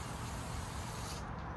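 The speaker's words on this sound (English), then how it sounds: "spray both sides of that gasket down with Permatex copper spray" An aerosol can of Permatex copper spray coating an engine head gasket for a 1937 Nash, one loud continuous hiss up close that cuts off abruptly near the end.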